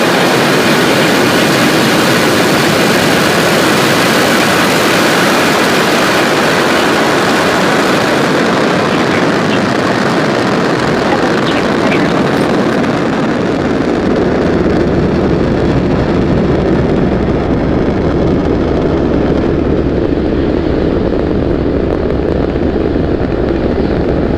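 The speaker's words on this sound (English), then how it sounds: "Falcon 9 has successfully lifted off from Space Launch Complex 40 at Cape Canaveral Space Force Station" A SpaceX Falcon 9 rocket lifts off from Space Launch Complex 40 at Cape Canaveral Space Force Station with a loud, continuous, deep roar that fills the whole clip. The thunder grows rougher and lower over time as the rocket climbs.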